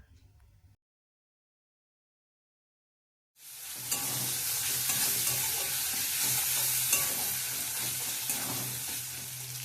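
Onion and tomato hit hot oil in a wok and break into a loud, continuous sizzle after a brief silence, with stirring scrapes over the steady hiss.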